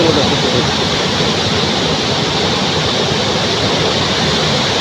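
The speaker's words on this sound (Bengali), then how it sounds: "খুলে দেওয়া হয়েছে কাপ্তাই বাঁধের ষোলোটি স্পিলওয়ে বা জলকপাট" Water from the sixteen opened spillway gates of Kaptai Dam rushes as a loud, dense, continuous roar, steady throughout with no talk.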